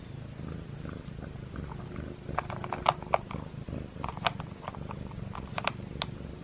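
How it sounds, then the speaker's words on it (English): A cat purrs close up with a low continuous rumble, punctuated by soft clicks and rustles from movement nearby. "He purrs louder than Simba"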